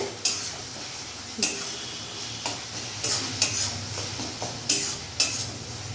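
Tomatoes being stirred with spices in a pan for a spicy pointed gourd and fish curry: repeated sharp scrapes and clacks of a spatula against the pan over a low, continuous frying sizzle.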